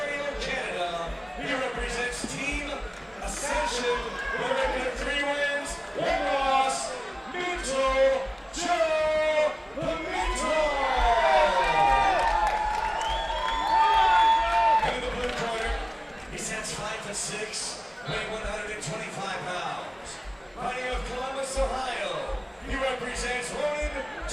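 Crowd at a fight-night event cheers and applauds in a sustained ovation for fighter Floyd Cisco, loud and continuous, with yells and whoops rising over an announcer's voice throughout.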